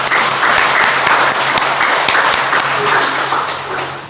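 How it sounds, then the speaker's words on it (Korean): Church congregation applauding together, a dense, sustained burst of clapping that fills the room for several seconds before gradually thinning out. "우리 하나님 앞에 다시금 감사하며 박수하겠습니다"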